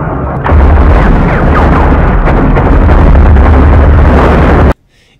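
Dense, continuous volley of gunfire and explosive bursts from a sci-fi action scene in the film The Fifth Element, loud and sustained for several seconds before cutting off abruptly into near silence.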